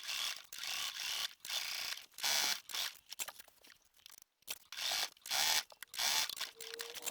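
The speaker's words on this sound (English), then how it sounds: "now I'm going to do the stitch in the ditch on all of the stripes" A sewing machine stitching in the ditch along the stripes of a scrappy American flag shirt, loud close bursts of rapid mechanical whirring and clatter that start and stop repeatedly with short gaps between runs.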